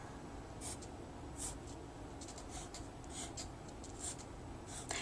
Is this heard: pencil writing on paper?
yes